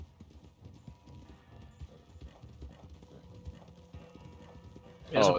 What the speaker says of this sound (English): my horse is critically injured and it'll take some time to recover